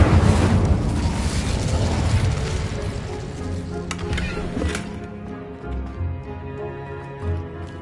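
An Incendio fire spell cast in Hogwarts Legacy bursts out in a loud, dense whoosh at the start, then decays into crackling flame and a low rumbling tail over a sustained game soundscape.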